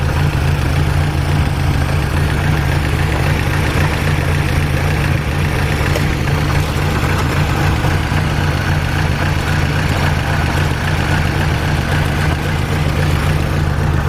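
An old engine, started after sitting unused for five to seven years, idling steadily with a deep, even rumble throughout, loud and close, with no talking.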